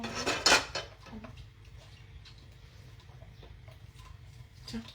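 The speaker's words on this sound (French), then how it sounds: "On mélange oignon champignon." Onion and mushrooms are mixed in a pan for chicken escalopes, with a loud clatter of utensil against pan at the start, then quiet scraping and faint kitchen noise.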